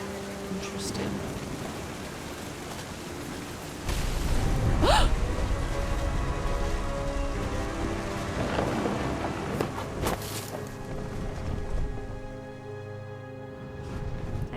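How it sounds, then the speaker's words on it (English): Thunder rumbles through a storm in What Remains of Edith Finch, with deep rolling booms and sharp cracks over steady rain and wind, and a voice speaks over the storm. "The thunder sounded much too close and full of angry power."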